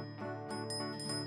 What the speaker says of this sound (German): denn ich hab Percys Glocke im Gepäck